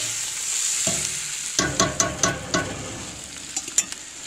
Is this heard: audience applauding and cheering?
no